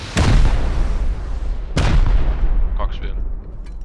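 Gunfire in the video game Rust: two loud, close booming shots about a second and a half apart, each trailing off in a long rumbling echo, followed by a few faint clicks.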